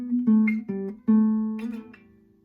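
Steel-string acoustic guitar playing a short fingerpicked and strummed passage from a song, live version, with ringing chords and plucked notes in a steady rhythm, close and clear, no voice.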